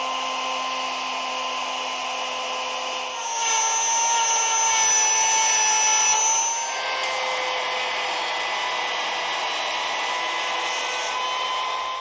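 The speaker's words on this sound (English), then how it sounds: "because it's such a small bit, I'm going to use my little trim router to do this operation" A small trim router fitted with a solid carbide bit cuts into wood, giving a steady high-pitched whine that rises in pitch and loudness for a few seconds mid-cut before settling back to an even drone.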